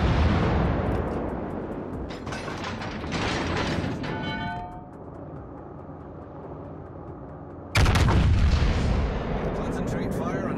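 Naval guns on warships in World of Warships: Legends boom loudly, with a heavy rumbling salvo early and another sudden blast near the end, amid mechanical clanks and whirring, while a radio-style voice gives orders.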